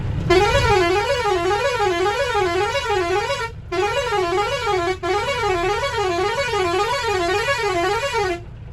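A vehicle horn blares at buffaloes blocking the road. It holds a long, loud, wavering, siren-like tone that breaks off twice for a moment before sounding again.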